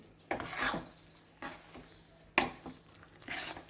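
Ragi flour is dry-roasted in a pan, with a spatula scraping through it in four distinct, quiet rasping strokes separated by short pauses.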